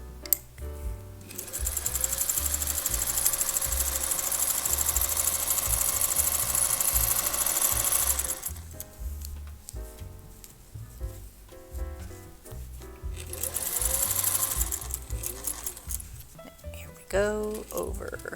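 A sewing machine stitches an invisible zipper into a pillow cover, running in two long steady bursts separated by a pause, with a short burst near the end and quiet talk in between.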